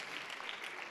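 Faint, brief round of applause at a school board of education meeting honoring culinary students, a soft continuous patter of clapping from the audience.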